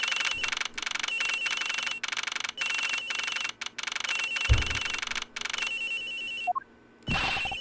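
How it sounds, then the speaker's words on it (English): A video game telephone rings in repeated electronic bursts with short gaps. The rings are loud and steady, then break off near the end before a brief closing note. "Sounds like the phone is up in the flight attendant's room."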